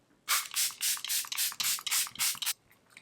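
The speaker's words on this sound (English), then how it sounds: "So I recently opened a new bottle of this stuff, the Charlotte Tilbury setting spray" Charlotte Tilbury setting spray mists onto a face in about eight quick, hissing pumps in a steady rhythm, close and clear against a quiet room.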